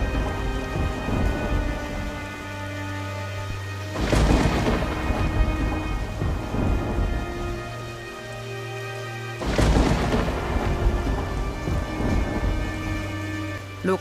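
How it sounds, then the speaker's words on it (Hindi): Heavy rain pours down steadily while thunder rumbles twice, each roll swelling then fading, loud and enveloping throughout. "और कुछ ही देर में मूसलाधार बारिश शुरू हो गई।"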